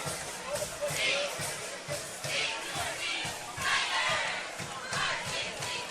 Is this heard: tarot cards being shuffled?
no